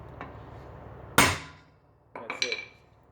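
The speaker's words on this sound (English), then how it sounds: "Then you want to whack it with a hammer." A hammer strikes a manual impact driver set to loosen a screw: one hard metallic whack, then a ringing decay, and a second burst of lighter clinking knocks about a second later, close and loud.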